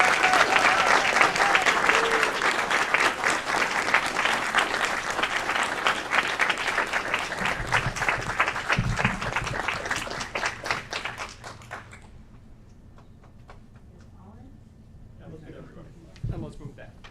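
A room at an Aurora city council meeting breaks into sustained, loud applause that fades out after about twelve seconds, with voices mingled in and a few low thumps afterward.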